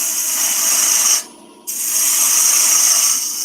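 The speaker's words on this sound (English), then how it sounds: "Back to the bowl gouge. Just take out some of the waste," A bowl gouge cuts away waste wood from a spinning top turning on a lathe, making a loud, steady whirring cut that drops away for about half a second before resuming, with no talk.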